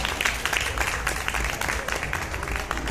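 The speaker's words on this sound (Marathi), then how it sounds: "जोरदार टाळ्या वाजवून द्या दोघांसाठी एकदा" Wedding guests at a shoe-game celebration clap in a steady, dense burst of applause that fills the room for a few seconds, with a faint crowd murmur underneath.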